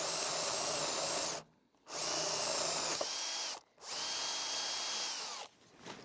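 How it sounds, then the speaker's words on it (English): A power drill whirs in three long bursts separated by brief pauses, its pitch sagging as it bites into a wooden door while boring lockset holes, close and steady. "we have to bore some new holes to match up with the new lock set"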